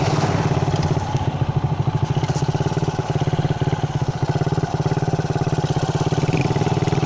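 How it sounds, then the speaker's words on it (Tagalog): A Suzuki Raider 150 Fi motorcycle engine idles nearby with a steady, rapid throbbing putter, loud and continuous, with no voices over it. "Try natin yung motor nila."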